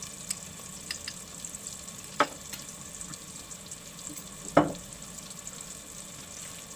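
Paneer chilli with capsicum, onion, tomato ketchup and sauces sizzles steadily in a pan close by. Two sharp spoon knocks or scrapes stand out as the mixture is stirred, with no talking.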